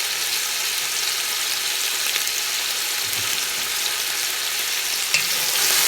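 Spices sizzle and fry in a pan for chicken pulao while being stirred, a constant close hiss with occasional soft scrapes.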